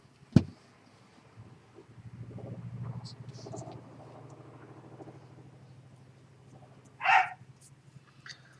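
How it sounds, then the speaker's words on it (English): A dog lets out a couple of sharp, isolated barks, well apart, at a helicopter outside, whose low, steady droning hum fills the background. "my dog doesn't like helicopters for some reason. She barks or yaps at them"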